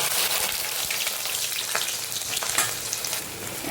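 Okra frying in about three ladles of oil in a pan, a dense, steady crackling sizzle with scattered louder pops and bubbling, close and continuous, no voices.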